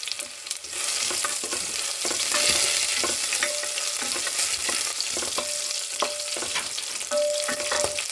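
Green chilies, curry leaves and garlic frying in a pan for millet khichdi: a continuous close sizzle with occasional scraping stir strokes and light clinks, and no talking.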